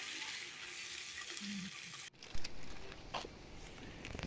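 Onions sizzle and fry in hot oil in a pot for Nigerian smoky party jollof rice. A dense, steady crackle holds throughout, broken by a brief stir or clatter midway, with no one talking.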